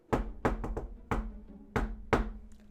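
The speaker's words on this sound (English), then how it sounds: "he stopped and knocked at the door" Knocking at a wooden door: six crisp, close raps in uneven pairs and singles, fairly quiet, with no voices.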